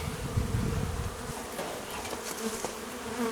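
A honeybee swarm buzzes steadily at a meadow apiary, a dense close insect drone that holds throughout with a louder low burst near the start.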